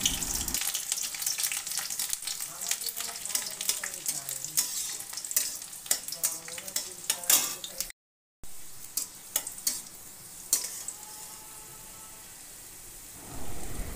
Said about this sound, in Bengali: দিয়ে দিলাম গোটা রসুন, দিয়ে 2-3 মিনিট রসুনগুলো নেড়ে নেব